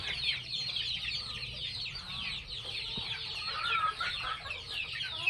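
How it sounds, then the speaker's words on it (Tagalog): A flock of chickens clucks and chatters continuously, close and busy, with overlapping calls and no talking. "Dami pa yung aming manok guys"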